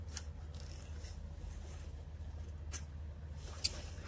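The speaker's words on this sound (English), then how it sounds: "I'm going to use these pliers because they cut so much better." Pliers snip off excess wire during a curtain repair in a truck cab: a few quiet, sharp clicks spaced a second or more apart over a steady low hum.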